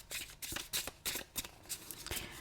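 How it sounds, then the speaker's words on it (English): Tarot cards being shuffled and drawn from a deck by hand, a quick run of crisp papery riffles and slaps in close succession, near and fairly soft, with no talking. "So we're just going to pull one card from here."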